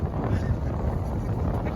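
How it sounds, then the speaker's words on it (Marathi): Strong wind roars steadily across the microphone in a dense, rumbling rush, loud and continuous like open water in a gale, during a storm while fishing on a coastal rock. "वारा बघा वादल वारा"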